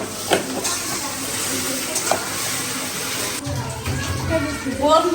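Okra fries in a pan in a home kitchen with a steady, close sizzle and stirring scrapes, while people talk nearby.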